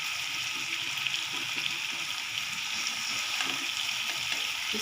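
Fish frying over high heat in a pan gives a continuous, even hiss and sizzle, steady and close without pauses.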